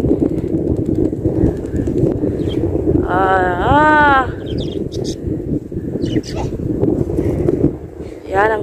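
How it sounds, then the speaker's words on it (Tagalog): Strong wind buffeting the microphone at a sand desert hill climb in Onayzah, Al Qassim, Saudi Arabia, a constant rough roar throughout, with a brief whistling tone partway through. "Lakas ng hangin."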